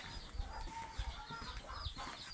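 Small-breed brooding hens with chicks make soft, faint clucks and chirps close by, with scattered low thumps and quiet rustling in the background.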